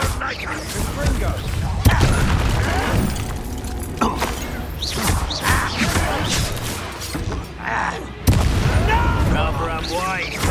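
Blasting spell explosions and combat effects in the game Hogwarts Legacy produce booms and sharp cracks, with two strong impacts standing out amid busy battle noise and a voice talking over it.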